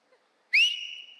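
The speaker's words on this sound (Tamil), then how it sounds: "பேசாமல் விசில் அடி." A child contestant on a televised kids' singing competition stage whistles a single rising note that holds steady and clear for about half a second, loud and alone after near silence.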